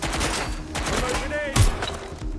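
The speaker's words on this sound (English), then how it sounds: "Incoming fire!" Bursts of rapid gunfire from the video game Watch Dogs: Legion, loud and sustained across the clip, with a sharper blast partway through and game voices mixed underneath.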